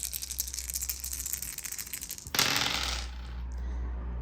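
Four dice rolled during a Kill Team tabletop wargame, a rising rattle of dice shaken together followed by a single sharp clatter as they land and settle on the table.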